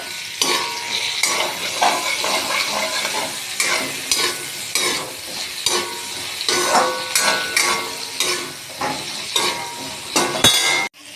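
Chopped carrots and onions sizzle steadily in a hot pan while a utensil scrapes and clinks against the metal in quick irregular strokes, loud and close throughout.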